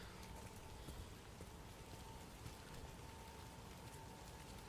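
Steady rain pours in the video game Resident Evil 9, a dense, continuous hiss of falling water with no breaks and no talk.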